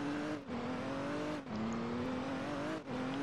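A car driven in Roblox around High Rock Park holds a steady droning engine hum. It dips briefly three times, like gear changes, then climbs again. It is continuous and close, with no talk.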